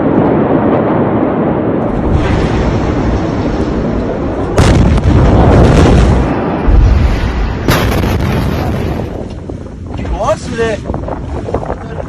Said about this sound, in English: And I look at that explosion, they say it looked like an atomic bomb.